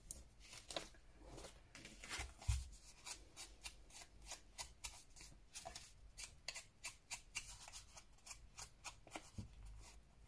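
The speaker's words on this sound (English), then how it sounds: "Cut those edges off." Scissors snipping through napkin fabric edges in a quick, close series of crisp cuts, quiet and alone with no voices.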